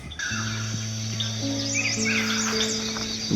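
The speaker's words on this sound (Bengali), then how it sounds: "ভোরের আলো ফুটতেই পাখিদের কলতানে ঘুম ভেঙে গেল।" Birds chirp and sing at dawn in a Kalimpong village in North Bengal, with several overlapping calls and trills over steady insect-like tones and a constant background hum, without any talking.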